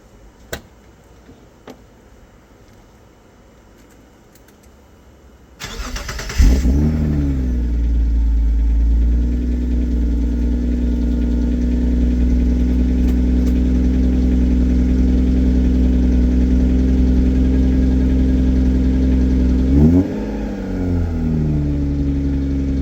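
A Subaru SVX engine cold-starts, heard through the exhaust: it cranks and catches, then settles into a loud, steady idle with a deep exhaust rumble and a brief blip of revs near the end.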